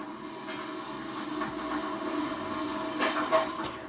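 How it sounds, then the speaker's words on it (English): A westbound passenger train runs past on suburban track at Ropes Creek, its steady rumble holding a high, sustained wheel squeal from start to finish, with a few metallic clanks near the end. "So there goes a directly western bound train in the background."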